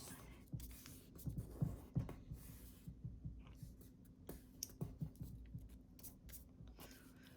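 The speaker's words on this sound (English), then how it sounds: "this is where you can do a nice crease of the paper" Paper being creased and folded by hand while making an origami clematis flower, soft intermittent rubs and taps with a faint steady hum behind them.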